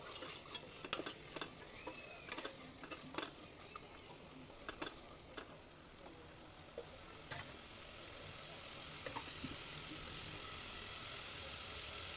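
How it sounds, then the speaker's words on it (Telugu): Mixed vegetables and green peas fry in a pan with a soft, steady sizzle, broken early on by sharp stirring clicks against the pan that fade into an even hiss. "కొంచెం ఫ్రై చేసుకున్నానండి"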